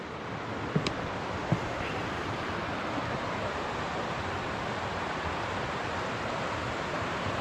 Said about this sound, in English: this is Saw Creek coming this way, and this is where it joins up with Red Rock Run.